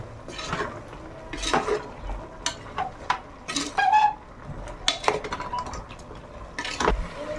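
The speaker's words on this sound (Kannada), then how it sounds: "ಇದನ್ನು ಚೆನ್ನಾಗಿ ತಿರುಗಿಸ್ಕೊಳ್ಳೋಣ." A spoon stirs a spiced chilli powder mixture in a metal pot, giving irregular scraping clinks and knocks against the pot close by, with no talking.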